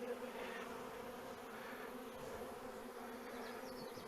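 Honey bees buzz steadily around queenless nucs as frames are moved during new queen introduction, a dense continuous hum close by with no talking.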